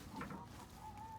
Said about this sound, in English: There must be a chicken in there.